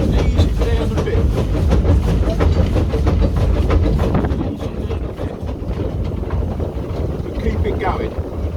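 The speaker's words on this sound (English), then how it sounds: "If it's not chuffing, it's not working." Steam locomotive Lady Nan No. 1719 on the East Somerset Railway chuffs loud and close in a steady rhythm, with rail clatter and wind buffeting mixed in throughout.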